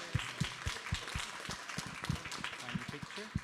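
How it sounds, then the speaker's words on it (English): Audience applause at a panel on microplastic pollution in the San Francisco Bay Delta: a steady, moderate patter of clapping hands with soft thumps, lasting a few seconds. "A big round of applause for all our speakers."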